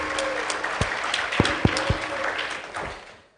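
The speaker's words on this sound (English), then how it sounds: "please give applause to the three presenters today" Audience applause for three presenters at an international conference on public administration and governance, a moderate patter of clapping with a few sharper claps, fading out at the end.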